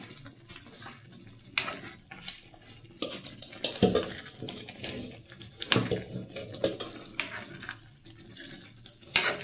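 Manchurian balls are stirred and mixed in a pan in a home kitchen, giving soft wet sloshing and scraping with intermittent clinks of a utensil against the pan, close and fairly quiet, with no talk.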